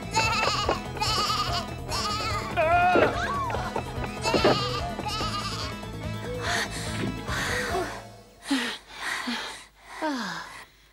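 Cartoon goat in a small stable from the animated Snow White legend, bleating in a few short wavering cries at the end, after a stretch of voices, music and busy sound.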